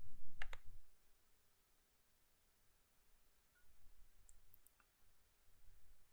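A computer mouse clicks twice in quick succession near the start while shutdown options are confirmed in Windows, followed by a quiet room with faint background noise.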